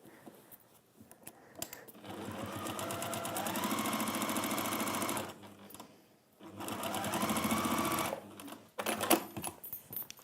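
A sewing machine top stitches a lining, running in two sustained whirring bursts with a pause between, close and clear, with small clicks and handling noises at the start and end.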